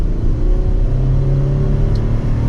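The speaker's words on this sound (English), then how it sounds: "let's give this a little bit of gas now" A 2022 Chevrolet Colorado Z71 pickup engine hums steadily and builds as it accelerates, a continuous low rumble that holds loud and close throughout with no talking.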